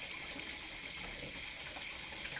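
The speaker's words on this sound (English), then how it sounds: "Turn on both hot and cold water supplies. Flush water lines for about 1 minute." Water running from a faucet with hot and cold supplies open to flush the lines, a steady faint hiss and rush of flow, continuous and alone.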